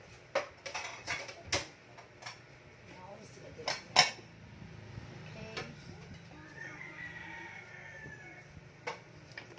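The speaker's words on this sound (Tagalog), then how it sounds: "Ang batang ito ang nakaatas ang huhugas ng pinggan ngayong araw" Dishes and cutlery clink and clatter in several sharp bursts, then fade to quieter rinsing and faint background sounds.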